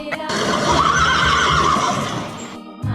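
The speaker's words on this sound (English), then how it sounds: "Horse." A horse whinnies loudly and close for nearly three seconds, a long wavering neigh that trails off, followed by a brief snort at the end.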